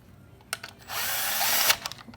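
A power tool runs a short, steady burst while tightening ignition coil bolts on a Toyota Celica GT-S 2ZZ-GE engine, with a few quick clicks before and after the whir. Close and loud, with no talk.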